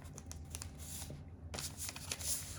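Colored paper being folded in half along a line for an origami figure, a close series of soft crinkling and rustling scrapes with sharper creasing swishes, quiet and handled at arm's length with no talk.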